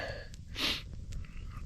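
One short, breathy sneeze outdoors during a river trip, fairly quiet against steady background noise.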